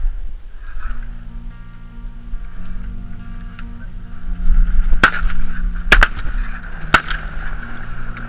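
Shotguns fire during a duck hunt in Texas. Three sharp, loud blasts land about a second apart over a sung tune with steady low instrumental backing.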